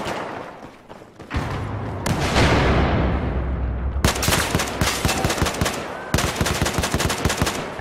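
Rapid carbine fire in Battlefield 4, a team deathmatch on PS4: dense automatic bursts with booming explosion-like blasts in the middle, then sharp, loud, closely spaced shots that break off and resume.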